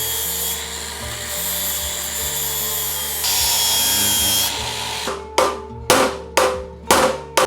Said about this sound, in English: I'm grinding down the welds and there's little to no cavities.